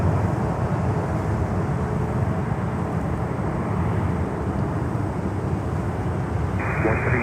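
Airliner departing Miami International Airport, a loud sustained jet engine roar that holds steady, continuous and fairly close, with a faint higher whine toward the end.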